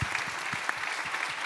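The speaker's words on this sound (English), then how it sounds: "let's give another round of applause for everyone who participated today" Audience applause at the close of a panel discussion, an even, moderately faint patter of many hands clapping throughout.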